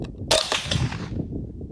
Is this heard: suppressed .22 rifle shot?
yes